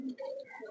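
A pigeon in a loft coos briefly and quietly, one soft throaty call heard up close.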